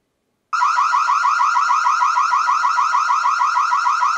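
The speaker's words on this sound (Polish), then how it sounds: "I kamera wydobywa alarm z siebie." A loud electronic alarm siren from a battery-powered, solar-panel Annke I77DD security camera starts abruptly after a brief silence and keeps warbling in a fast, steady pulsing pattern until the end.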